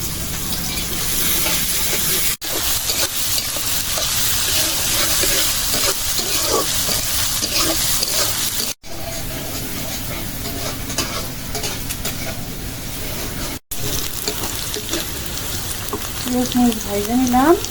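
Sliced onion and green chili sizzle steadily in hot oil in a pan, with a constant close frying hiss and occasional stirring scrapes; a brief higher tone rises near the end.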